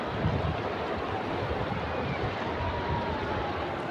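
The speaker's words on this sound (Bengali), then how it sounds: "পানির সাউন্ড দেখুন, কি শব্দ," Water rushes and laps steadily around someone standing in it outdoors, a continuous broad wash with wind noise on the microphone and no speech.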